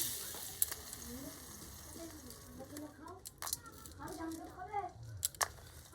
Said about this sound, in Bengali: বাটারটা গলে গেলে আমি এর মধ্যে দুটো তেজপাতা এবং কয়েকটা গোলমরিচ ফোড়ন দিয়ে দেবো